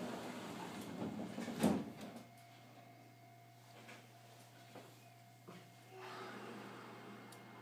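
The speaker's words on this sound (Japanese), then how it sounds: "扉が閉まります。" Doors of a Nishitetsu 7000 series train on the Amagi Line slide shut with one firm thump, then a steady low hum carries on inside the car with a few faint clicks.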